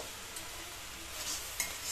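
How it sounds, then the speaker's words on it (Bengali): Cabbage with spices is stirred in a frying pan, a soft steady sizzle with faint scraping of the spoon, quiet and continuous, with a couple of small clinks near the end. "এইবারে বাঁধাকপিটা মশলা দিয়ে উঠিয়ে নেব।"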